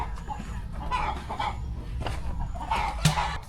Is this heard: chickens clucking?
yes